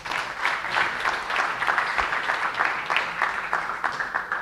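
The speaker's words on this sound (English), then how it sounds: "Please, a round of applause for the speakers and for yourselves." A conference audience at a university main stage claps steadily, a full, sustained round of applause from a large crowd with faint voices mixed in.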